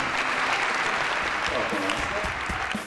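Loud, sustained applause from an audience at the JLL Winning Workplace Award 2017 ceremony, with a voice faintly mixed in under the continuous clapping.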